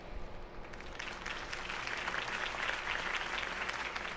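Crowd applause in Telltale's Batman video game, a sustained wash of clapping that swells and holds at moderate loudness without speech.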